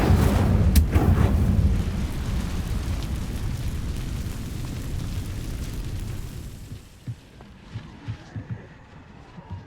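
An Incendio fire spell cast in Hogwarts Legacy: a loud, rumbling burst of flame that roars for several seconds, thins into a crackling tail, and ends in a few sharp pops.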